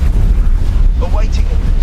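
A ship blowing up in the space game X4 Foundations: a loud, continuous low rumbling blast that fills the whole stretch, with a few short electronic chirps near the end.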